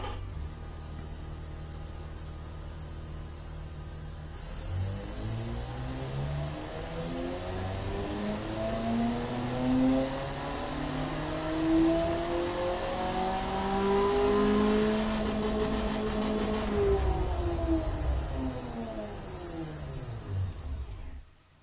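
A simulated car engine in the game Automation revs up through a long rising sweep, holds high, then drops back down, steady and prominent with no voices over it.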